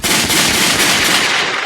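Rapid burst of gunshots fired in quick succession, loud and close, filling the whole stretch as a dense crackling volley with no voices over it.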